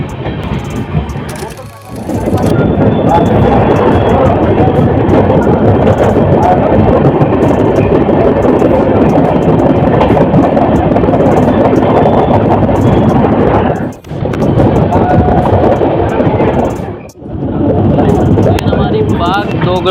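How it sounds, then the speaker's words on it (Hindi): An Intercity Express train departing Thakurganj station on the Jogbani to Siliguri line, heard from a general coach, roars loudly and steadily as it runs, with two short dips in the noise. "हमारी ट्रेन का डिपार्चर हो चुका ठाकुरगंज रेलवे स्टेशन से"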